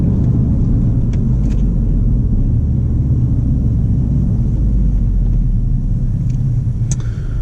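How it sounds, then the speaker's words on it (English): A 2017 Ford Focus RS with an AirTech intake: steady low engine rumble with a deep intake drone fills the cabin, constant and loud, with a faint tick now and then. "that AirTech intake sounds fantastic"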